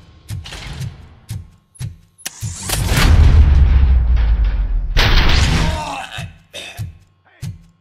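Loud bursts of gunfire and booming blasts from the video game RoboCop: Rogue City, with rapid repeated shots and a sustained rumbling barrage in the middle, briefly overlapping voices.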